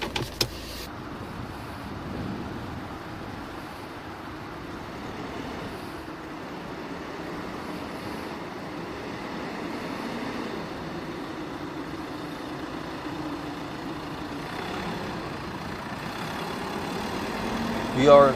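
A 2019 Mercedes-Benz X-Class X250d 4Matic diesel pickup being driven, heard from inside as a steady, even engine and road drone throughout, with a brief louder swell at the very end.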